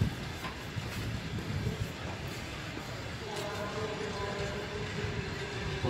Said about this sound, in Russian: Старенький вагон Эмендорф.